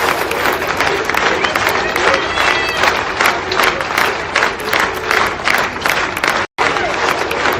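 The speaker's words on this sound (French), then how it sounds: "regardez ils applaudissent" At a memorial march for Louis in France, a large outdoor crowd claps and cheers steadily, with dense, sustained applause and a murmur of voices, loud and close, continuing without pause except for one brief cut.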